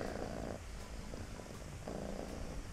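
A cat lies on a person in bed and purrs, a steady close rumbling drone that swells and eases with each breath, continuous and quiet with no talk.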